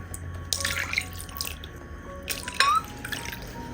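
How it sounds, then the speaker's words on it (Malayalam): Hot water is poured into a bowl of cooked tomatoes, producing splashing and dripping in uneven bursts with a brief louder gush near the end; no one speaks. "ബൗളിലേക്ക് മാറ്റിയ തക്കാളിയിലേക്ക് 3 കപ്പ് വെള്ളം വീണ്ടും ഒഴിച്ചു കൊടുക്കാം."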